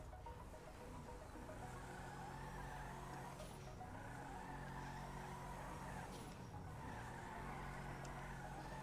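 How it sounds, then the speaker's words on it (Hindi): BMW M3 drifting in GTA 5, with steady engine roar and sustained tire squeal over nearly nine seconds, the pitch rising and falling as the car slides. "BMW तो पीछे भी ड्रिफ्ट ही मार रही है यार"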